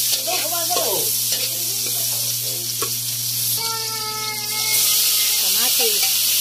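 Garlic sautés in a pan with a continuous close, bright sizzle and hiss, while a voice talks over it throughout.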